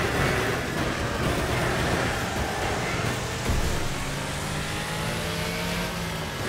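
Race car engine in Wreckfest revving hard and continuously up close, a dense roaring drone with rising and falling pitch and no talk over it.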